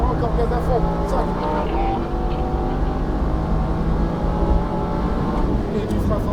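A Lamborghini STO at full throttle on the Lohéac circuit gives a sustained, rising engine howl, loud and close, with a voice talking over it.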